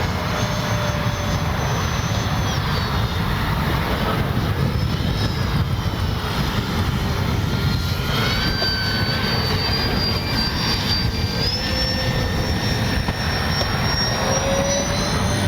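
Arrows F4U Corsair RC warbird plane with an electric motor on a 4S battery, flying at full speed with a steady, loud whining drone that rises and falls in pitch as it passes, continuous throughout with no talking.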